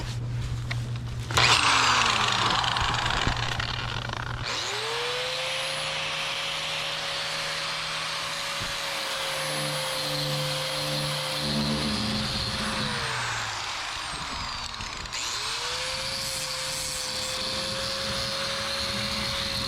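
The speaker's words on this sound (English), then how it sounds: "I'm gonna hit this with a sandpaper wheel for this side grinder." An angle grinder with a sandpaper wheel grinds rust off a pontoon boat trailer. Its loud, close whine spins up, holds steady with scraping and rough grinding, then revs down and back up.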